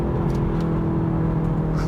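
Kia ProCeed GT pulling away hard from a standstill with a bit of wheel spin, a steady loud engine drone holding throughout at close range.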